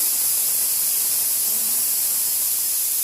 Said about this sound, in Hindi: अभी आपको मेरे कुकर का आवाज़ सुनाई दे रहा होगा